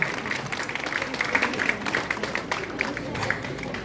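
Applause from attendees at an association branch inauguration meeting in Ramanathapuram, a continuous patter of many hands clapping at moderate loudness, with faint background chatter mixed in.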